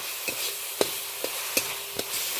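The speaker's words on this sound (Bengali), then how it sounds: "এবার এই মশলাটাকে একটু কয়েক সেকেন্ড নাড়াচাড়া করে নেব, ভালো করে কষিয়ে নেব।" A spice masala with coriander powder is stirred and fried in a pan. Soft frying hiss sits under a handful of sharp, irregular spoon scrapes, close by, with no voices.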